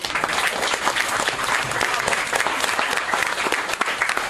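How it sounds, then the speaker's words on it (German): A crowd at a sports prize-giving ceremony gives dense, sustained applause, many hands clapping at once in a steady roar that fills the whole stretch. "Großen Applaus meinem lieben Schiedsrichter"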